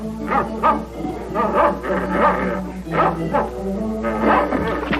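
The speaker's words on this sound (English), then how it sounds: "So Bobby and the dog are having a wonderful time playing in the garage." Dog yipping, whimpering and barking while playing in a garage, giving repeated excited bursts in a lively, uneven rhythm that sounds near and fairly loud from a 1948 television broadcast.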